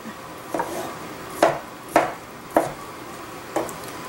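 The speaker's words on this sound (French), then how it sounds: "Je vais la couper en morceaux plus ou moins grossiers." Five sharp knife chops land one after another on a board, spaced roughly half a second apart, as food is cut into coarse pieces for an orange-ginger duck dish; close and crisp with no voices.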